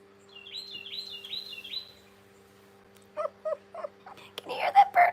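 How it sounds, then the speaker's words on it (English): A bird outdoors on a rainy day calls loudly in repeated bursts, first a quick series of chirps, then a pause and several sharper, louder calls, with a little background noise. "That bird is loud."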